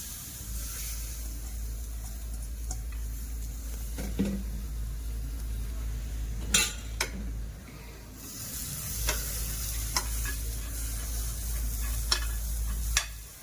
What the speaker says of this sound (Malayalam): ഇനി നമുക്ക് നമ്മുടെ ഈ മീനൊന്ന് വറുത്തെടുക്കണം